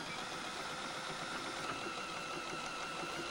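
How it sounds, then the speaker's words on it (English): A Memory Craft 7000 sewing machine runs steadily for a few seconds, a fast, even mechanical whir as it stitches and ties off, close and alone. "Hold your foot down until the MC7000 automatically ties off the stitch."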